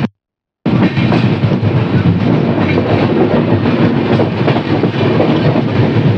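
The 12828 Purulia SF Express pulls away from Chandrakona Road station, a loud, steady rumble of rolling coaches with rhythmic wheel clatter that starts abruptly after a brief silence and continues without talk.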